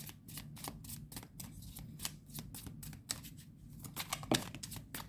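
Tarot cards are shuffled in a steady run of crisp riffling flicks and soft slaps, close and fairly quiet, with a sharper snap near the end and no talking.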